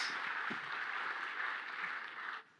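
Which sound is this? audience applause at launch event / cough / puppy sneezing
audience applause at launch event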